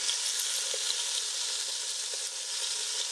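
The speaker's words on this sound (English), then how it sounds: "we've had the beef cooking for 3 minutes" Beef browns in a large Dutch oven, a steady, close hiss of searing meat in hot fat with faint pops and crackles, left undisturbed with no stirring.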